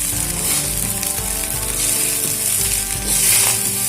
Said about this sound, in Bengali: এবারে 5 মিনিট মতন রাইসটাকে ভেজে নেব